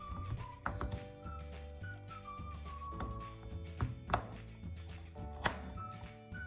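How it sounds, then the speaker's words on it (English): A large sharp knife cuts through firm pumpkin on a cutting board, with a few distinct knocks and thuds spaced apart, faint under soft background music. "place the pumpkin flat on the cutting board and gently cut with a large, sharp knife"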